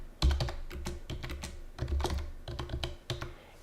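Fingers type on a computer keyboard in quick, uneven bursts of crisp, close key clicks, with short gaps between groups of strokes and no voices.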